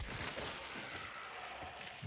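Rapid gunfire in the video game Hunt: Showdown 1896, a dense burst of shots over a steady noisy game backdrop, with no voices.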